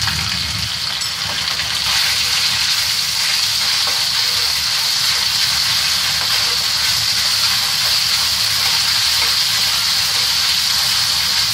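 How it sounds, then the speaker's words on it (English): Ginger sizzles loudly and continuously in hot rendered pork fat, a steady crackling hiss with occasional stirring, close by and without talk. "She's stir frying ginger, very good tasting ginger."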